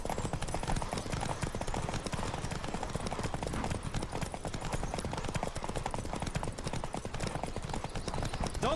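A horse gallops hard in a race in The Witcher 3, its hooves drumming in a fast, continuous clatter that stays loud and close for the whole stretch, with faint voices underneath.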